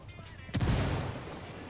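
A frag grenade goes off in the Ghost Recon Wildlands video game, a single heavy boom with a deep rumbling tail and possible gunfire mixed in, following a quieter lead-in.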